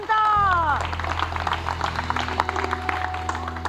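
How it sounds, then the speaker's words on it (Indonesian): A studio audience briefly applauds Sarah Wijayanto on a comedy talk show, with crowd clapping under a host's speech and a musical sting at the start. "Tepuk tangan dong buat Kak Sarah Wijayanto."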